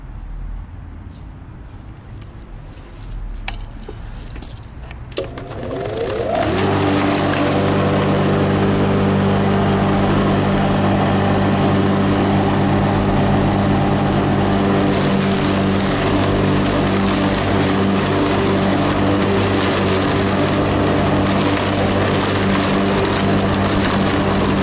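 A Makita ELM3311 electric lawnmower starts after a few seconds of quiet ambience, rising into a loud, steady motor whine with strong tonal harmonics that hold up close for the rest of the clip.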